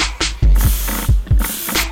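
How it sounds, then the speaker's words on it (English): Oribe Shine Reflective hair spray hisses from an aerosol can onto hair ends in a salon, coming in several short, close bursts with brief gaps between them. "So now I'm using our Shine Reflective Spray"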